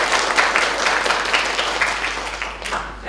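An indoor audience at a welfare ceremony bursts into steady, dense applause to welcome a guest speaker, loud and continuous throughout with the clapping thinning slightly toward the end.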